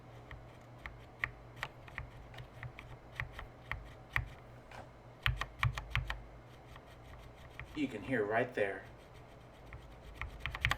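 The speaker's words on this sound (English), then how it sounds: "You can probably very clearly hear the chalkiness I'm talking about here. If I just press one key at a time." Individual Noppoo Lolita mechanical keyboard keys with Spyder switches pressed one at a time, crisp chalky clicky clacks in an uneven rhythm, with a brief voice speaking partway through.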